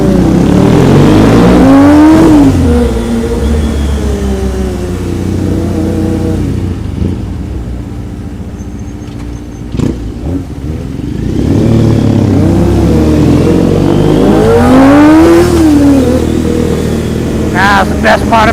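Motorcycle engine revving and accelerating through Tokyo traffic, loud and close with rising and falling pitch sweeps as the bike speeds up and slows, surrounded by passing car noise.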